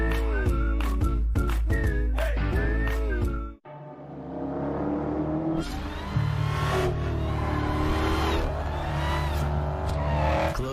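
Fast cars roar through a stunt-driving commercial on a closed course, loud engines revving and accelerating in bursts, with a sharp cut to a deeper sustained drone and a tire squeal amid the racket.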